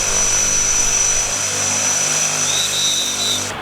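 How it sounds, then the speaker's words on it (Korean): An airplane lands at the Lukla airstrip in the Himalayas, its propeller engine droning loud and steady with a high whine riding over the roar, close and with no voices. "비행기가 내려앉은 곳은 루크라"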